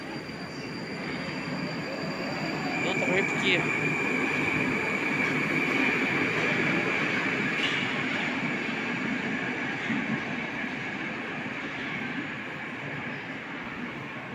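A metro train on Moscow's Big Circle Line rides along with a steady, loud rumble and rail noise from inside the car, with a brief faint remark from a passenger partway through.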